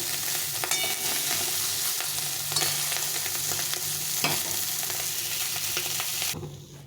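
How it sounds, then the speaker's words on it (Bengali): Fish frying in a small amount of oil in a pan, a dense close crackling sizzle running throughout with light spatula scrapes, cutting off abruptly at the end. "মাছগুলো একপাশে সুন্দরভাবে ভাজা হয়ে গেছে, এখন উল্টো পাল্টে ভেজে নেবো।"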